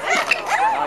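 A dog yips and whimpers at a small jumping show, a few brief high-pitched sounds over less than a second close by, mixed with nearby voices.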